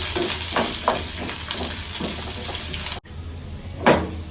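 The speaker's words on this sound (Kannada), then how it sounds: "ಮೊದಲು ಈರುಳ್ಳಿನ ಫ್ರೈ ಮಾಡ್ತೀನಿ ಬೇಕು, ಅಲ್ಲಿವರೆಗೂ ಸ್ವಲ್ಪ ಚೆನ್ನಾಗಿ ಫ್ರೈ ಮಾಡ್ಕೊಳ್ಳೋಣ." Onions frying in oil in a pan make a close, steady sizzle broken by scraping stirs, with a sudden cut partway through followed by quieter frying and one sharp clink.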